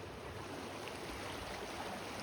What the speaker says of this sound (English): Cold creek, just mountain snow melt.